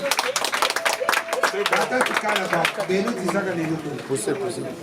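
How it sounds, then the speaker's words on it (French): Guests at a customary wedding in Bacongo clap by hand in a lively burst of sharp claps that fades over a few seconds, with voices talking and chattering among them. "On applaudit."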